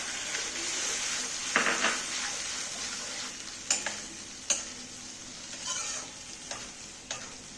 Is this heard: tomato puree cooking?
yes